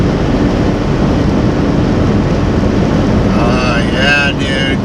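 Interior of a 2000 Honda Insight cruising downhill with the throttle eased off, a steady loud rush of road and wind noise filling the cabin, with a brief voice-like tone rising near the end.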